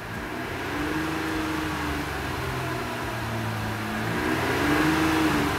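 Idling engine of a 2018-2021 Jeep Wrangler JL or Gladiator fitted with a throttle booster, gently blipped so the RPM rises and falls in a smooth hum, with a slightly stronger rise near the end; steady, close and alone.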